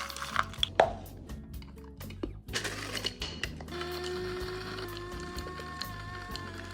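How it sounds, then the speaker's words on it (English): Pistachio nuts are chopped in an electric mixer in a home kitchen: a few clattering knocks as the nuts go in, then the motor starts and whirs steadily with a rattling buzz, fairly quiet and close, with no talking. "Now I'm going to put it in this mixer. This will make the nuts into small pieces."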